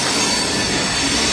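Loud, continuous squealing of train wheels and rolling railcars in a train yard where trains are repaired, a steady grinding screech filling the whole moment with no voices.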